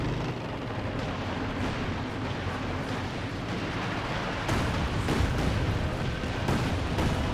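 Artillery barrage in Company of Heroes 2: a dense, continuous low rumble of distant shelling and blasts, swelling louder for the final few seconds with no one talking.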